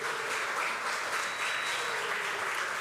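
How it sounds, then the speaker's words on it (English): A crowd at the NCBA 10th anniversary show in Anguilla gives a dense, continuous round of applause from many hands, steady and fairly loud throughout with no pauses. "Let's give another round of applause to"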